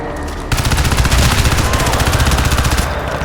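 Rapid automatic gunfire in Crysis 2 rattles in a fast, steady burst for about three seconds, loud and close, with a game-like punchy sound.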